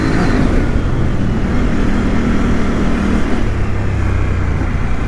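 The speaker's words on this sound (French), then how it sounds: "Et le 4x4, on va le doubler le 4x4." A 4x4 off-road vehicle on a forest trail rides through a sustained, loud engine drone whose pitch shifts partway through. No voices are heard.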